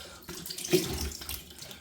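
Water runs from a tap as a Rockwell 6C razor is rinsed, with faint splashes and uneven trickling at low volume and no talking.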